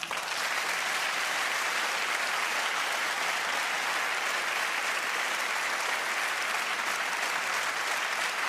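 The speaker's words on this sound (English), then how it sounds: "Please join me in giving them a big round of applause." Sustained audience applause at the European Inventor Award ceremony, a broad, uniform roar of many hands clapping in a large hall, steady and unbroken from start to finish with no voices on top.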